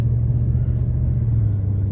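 A truck's engine rumbles steadily at low speed while being parked, a close, even drone with no clear revving.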